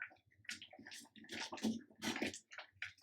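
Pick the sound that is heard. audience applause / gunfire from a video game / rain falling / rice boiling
rice boiling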